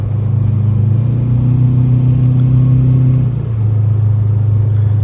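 A 2005 Subaru Legacy GT cruises in manual shift mode, its engine drone loud and steady from inside the cabin. The pitch holds, rises slightly, then drops as the car shifts gear.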